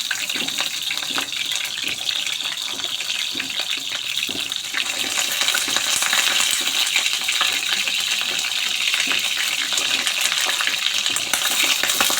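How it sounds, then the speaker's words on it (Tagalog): Eggplant slices frying in a pan of oil, a constant, fairly loud crackling sizzle that holds steady throughout, swelling slightly partway through, with no voices. "magprito na po tayo ng talong"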